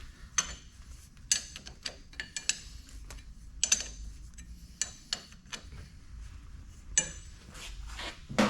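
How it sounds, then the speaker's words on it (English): A ratchet clicks during repair work on a Herron K24 lathe, a run of quick, sharp ticking bursts at close range, bunched in short groups with pauses between them, over a low background hum. "And get a ratchet a bit quicker."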